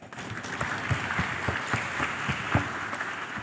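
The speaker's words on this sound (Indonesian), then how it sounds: "Kami mohonkan aplaus untuk pembicara." An audience at a formal event applauds a speaker, a steady, dense patter of many hands clapping together at an even level throughout.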